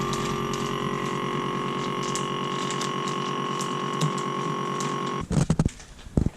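A SICO S-250 vacuum sealer on auto pumps air from a bag of mince, a steady close motor hum and whir that cuts off near the end, followed by a few clicks and handling sounds.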